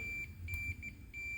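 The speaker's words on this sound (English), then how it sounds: "hear that beep. That's telling me that whenever I touch this piece of metal, it completes the circuit and then sends an alarm saying all is good" Continuity tester beeping while touching metal on a good RV backup light bulb: a thin, steady electronic tone sounding in several short bursts with brief gaps.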